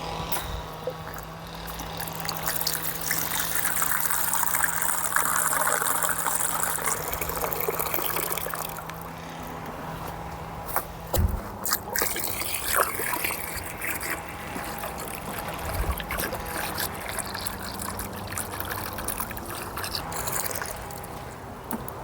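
Water pours and gushes into a garden container on an allotment, a steady splashing fill that runs for several seconds and then gives way to quieter trickles and handling knocks, close by with no talk.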